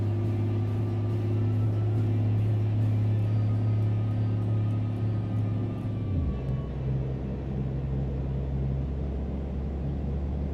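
A truck engine in American Truck Simulator drones loudly and steadily, then drops in pitch as it shifts to a lower, rumbling idle-like hum, with no talking over it.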